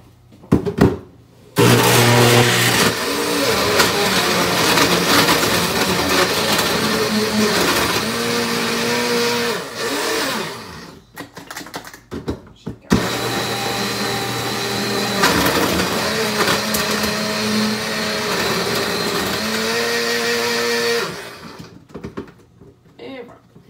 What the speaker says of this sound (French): je vais le mettre dans mon mixeur